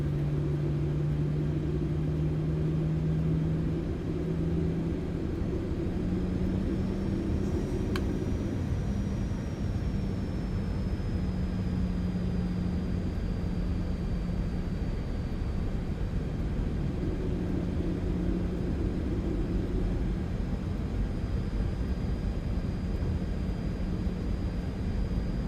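PMDG 737 jet engines spooling up for the takeoff roll in a flight simulator game, a steady, loud rumble and whine that holds throughout, with a high turbine tone rising and then settling.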